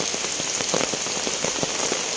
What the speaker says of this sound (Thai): รีวิวตอนฝนตก มันจะได้บรรยากาศ